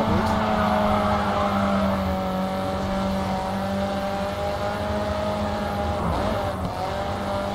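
In the GRID 2 racing game a car drives with a steady engine drone and a harsh scraping rasp, ending with a brief scuff near the end.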